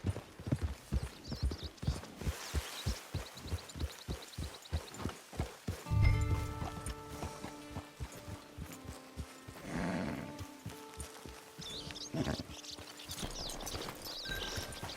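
Steady clip-clop of horse hooves at a walking pace in Red Dead Redemption 2 Online, a regular rhythm of hoofbeats up close, with musical tones and other game sounds joining partway through.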